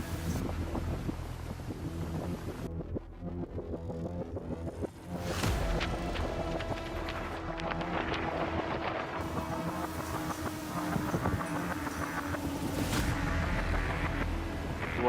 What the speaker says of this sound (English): A lot of battering waves, some strong wind gusts